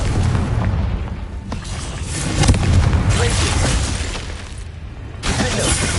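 Confringo spell explosion in the video game Hogwarts Legacy, heavy booming blasts with shattering bursts inside a cave, loud and continuous, over game speech.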